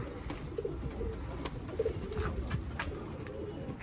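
Pigeons coo softly in a low, burbling rhythm, repeated a few times against steady background noise.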